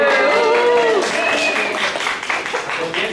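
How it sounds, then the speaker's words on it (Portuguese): An audience at a Cursilho movement lesson in Bofete claps, with a voice over the start before a steady round of applause carries on. "Uma salva de palmas para eles."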